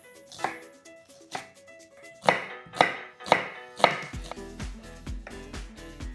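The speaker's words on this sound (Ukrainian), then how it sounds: "беру цибулю, нарізаю напівкільцями" A knife slices an onion into half rings on a cutting board in sharp, irregular strokes, about a dozen crisp taps close by, with a faint sizzle near the end.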